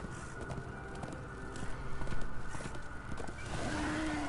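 Hoofbeats of a zombie horse ridden in Darksiders 2, a steady clip-clop gait close by over a low game ambience, with a brief tonal whine near the end.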